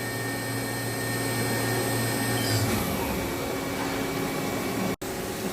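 A 2012 Haas VF-2 CNC vertical mill spindle spins steadily at 7,000 RPM, a loud, continuous whine with a hum that shifts briefly midway, then cuts out abruptly near the end.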